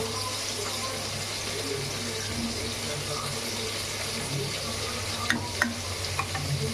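Punugulu fritters made from idli batter fry in oil with a continuous bubbling sizzle and low hum, joined late by a few sharp clinks of a utensil against the pan.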